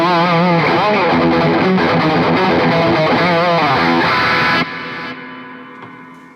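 An electric guitar played through a Mooer GE100 Pro Li modelling a Marshall Plexi 100 amp with a Glenn Fricker SM57 cab, heavily distorted, strumming loud sustained chords that cut off abruptly and ring out into a fading tail.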